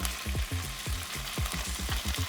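Collar bacon strips frying in a pan give a steady, close sizzle with crackling pops and spits throughout, loud and continuous with no talking.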